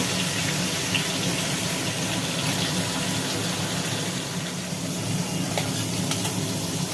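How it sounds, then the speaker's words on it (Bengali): Steady, even sizzling of fish frying in hot oil, a continuous crackling hiss with no talking. "মাছগুলো ভাজা হয়ে গেল"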